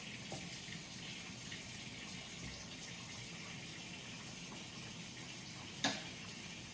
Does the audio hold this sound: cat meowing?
no